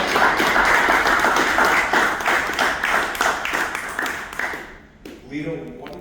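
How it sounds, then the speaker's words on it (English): A cigar industry gathering gives a round of applause to the next generation of its cigar families: dense, continuous clapping from a crowd for several seconds that fades out as a voice begins. "And I think they deserve a big round of applause."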